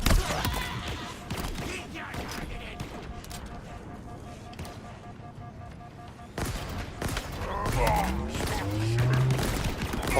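Gunfire from weapons in the Halo Infinite video game, fought against Jackals: dense bursts of shots and impacts layered with game effects, loud and continuous with a brief lull, while someone talks over it.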